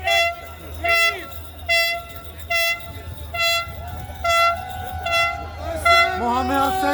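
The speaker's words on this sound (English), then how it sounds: "The air horn" An air horn blares in a string of short, loud blasts, roughly one per second, ending with a longer wavering honk.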